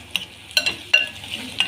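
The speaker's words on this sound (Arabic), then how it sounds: "الثوم بيتشوح كده مع الدقه ومع البصل اللي استوى" Garlic sautéing with cooked onion in a pan for a baked fish tray: a quiet sizzle broken by a few sharp scrapes and taps of a stirring utensil, close up, with no talking.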